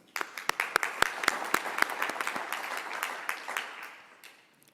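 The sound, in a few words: applause for the conference sponsors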